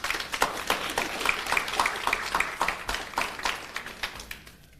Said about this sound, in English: And I want a round of applause for P.S.